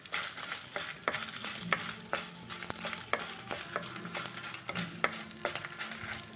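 Eight dried red chillies frying and being stirred in a kadai, a steady close sizzle punctuated by regular scraping clicks of the spatula against the metal, with no voices.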